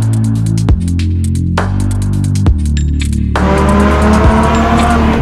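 A Lamborghini Huracan EVO RWD with a NOVITEC exhaust system roars at high revs, with sharp gear-shift breaks and rising pitch as it accelerates hard, loud and close.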